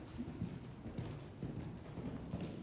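Horse hooves clip-clop in a steady rhythm during a riding lesson at a barn, a muffled, moderately close thudding gait with no talk over it.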